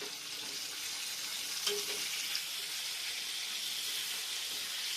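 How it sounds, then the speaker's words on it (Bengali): Potatoes fry in a pan as part of a fish curry dish, a soft, steady hiss of oil with faint stirring clinks, fairly quiet and continuous, with no talking. "ভবিষ্যৎ এখন আলু ভাজছে মাছে।"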